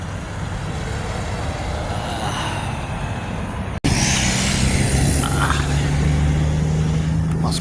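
Vehicles pass on a road beside Umm Al Quwain beach, a continuous loud rumble and rush of traffic that briefly cuts out, then returns with a heavier engine drone.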